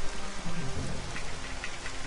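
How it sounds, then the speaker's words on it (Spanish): Steady, dense rain from the PlayStation 1 game MediEvil 2 hisses continuously and evenly, a close, full wash of falling drops with no voices. "no es que sea un efecto de lluvia muy logrado, pero para ser de PlayStation 1 está logradísimo"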